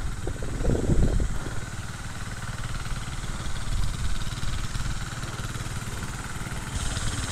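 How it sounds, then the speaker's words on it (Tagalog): A second engine running on a farm during an eggplant harvest, a steady mid-pitched droning hum that holds through, with a brief louder rattle near the start and no talk. "Yun, pinuksan na ni Patrick yung pangalawang makina."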